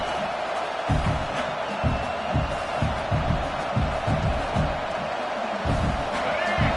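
Stadium crowd noise from a Madden football video game, a steady roar of fans with rhythmic stomping or clapping thumps. Play-by-play talk runs over it.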